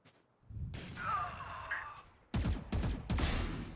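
Gunfire in a tactical shooter video game, a couple of muffled shots followed by sharp bursts of loud automatic fire near the end, with game effects in between.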